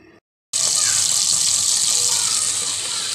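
Oil heating in a cooking pot for jeera aloo gives a loud, steady hiss that starts abruptly after a brief moment of silence and continues evenly to the end.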